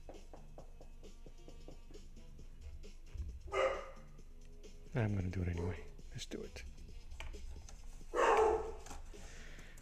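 Indoors, a dog barks in a few short bursts, moderately loud and close by, while a person talks quietly between and around the barks.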